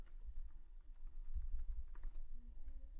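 Computer keyboard typing a short heading in a course-builder web page, with a steady run of close, moderately loud keystrokes and no talk.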